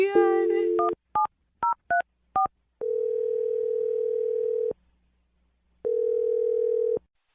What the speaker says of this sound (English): We're going to dial the phone number right now for you.